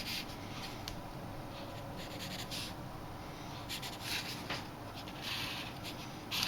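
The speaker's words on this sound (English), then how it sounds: "I'm just going to sketch that in now." Pencil sketching a pickup truck bumper on paper: soft, continuous scratchy graphite strokes, close and quiet, with short bursts of faster shading against a low background hum.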